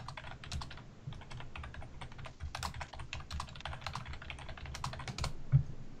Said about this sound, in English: Damn, how fast is you typing?